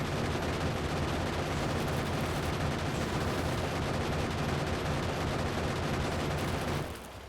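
Sustained, dense automatic turret gunfire in a Firefly mission of a strategy video game, a loud continuous barrage of overlapping shots and blasts for about seven seconds before cutting off abruptly near the end.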